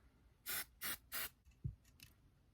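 Three quick, close hisses from a spray bottle in a row, followed by a soft thump and two fainter sprays.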